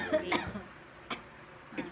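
Coughing from a woman, three separate coughs spaced out over two seconds, fairly close and moderately loud with quiet gaps between them.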